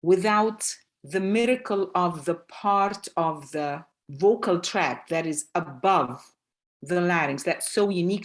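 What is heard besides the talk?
No everyday noises stand out.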